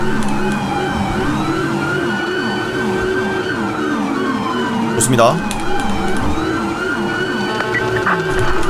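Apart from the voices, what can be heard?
police car siren in video game GTA V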